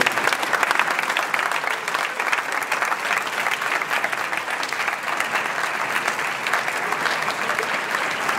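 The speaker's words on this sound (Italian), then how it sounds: "Un applauso a Marco" A crowd applauds Marco at a family gathering in Casal di Principe, with steady, dense clapping from many hands lasting several seconds, close and fairly loud, with no speech over it.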